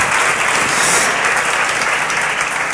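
Loud, dense audience applause fills a Spanish television studio, a steady close wash of clapping with no talk over it.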